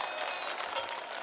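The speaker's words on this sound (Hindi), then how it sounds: "एक ताली तो बनती है आपकी तरफ से।" Audience clapping at a qawwali performance, a brief, fairly faint wash of many hands applauding together with no voices.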